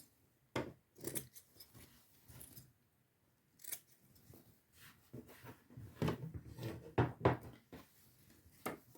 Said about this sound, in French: je te conseille de couper tes angles ici